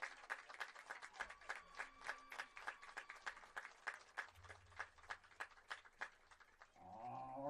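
A small, sparse crowd at a men's college soccer senior-night ceremony claps in scattered individual hand claps, fairly faint and outdoors, with a brief low hum partway through and a short tonal sound at the very end.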